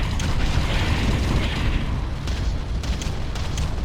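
Artillery bombardment in the strategy game Ground Control, a dense continuous rumble of booming blasts and crackling impacts, with a few sharper hits standing out near the end.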